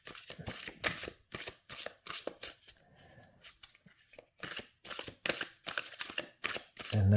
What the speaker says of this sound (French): Donc les cartes se mélangent très très très bien.